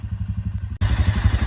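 Suzuki King Quad 750 ATV engines running close by, a steady pulsing idle that jumps abruptly louder and rougher midway through the brief stretch.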